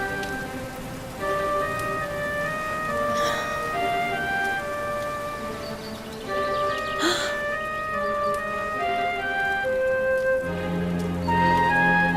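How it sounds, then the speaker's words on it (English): Rain falling in the video game Dragon Quest XI, a continuous gentle patter under layered melodic game music with sustained tones, no voices. "Looks like the rain's dying down."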